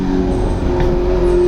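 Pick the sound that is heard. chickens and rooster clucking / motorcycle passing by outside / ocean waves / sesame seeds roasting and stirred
motorcycle passing by outside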